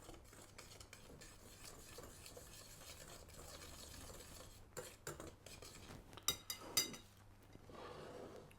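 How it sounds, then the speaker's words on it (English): Corn flour and caster sugar being stirred together in a bowl while making custard, a soft continuous scraping and stirring with a few sharper clinks of utensil against the bowl near the end. "we want to combine the corn flour and the caster sugar together and mix that in well"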